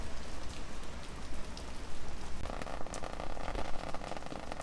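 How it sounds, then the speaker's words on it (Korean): Heavy rain pours steadily outdoors, a dense, constant hiss of drops on surfaces that grows slightly fuller partway through, with no talking. "비가 너무 많이 와."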